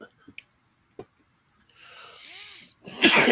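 A person gives one loud, sharp sneeze near the end, after a stretch of near silence broken by faint clicks and a brief murmur of voice.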